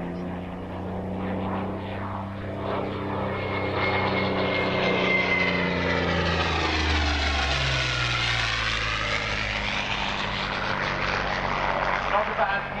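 A Curtiss P-40 Kittyhawk propeller aircraft engine running with a steady, loud drone, its tone shifting gradually, with voices talking over it.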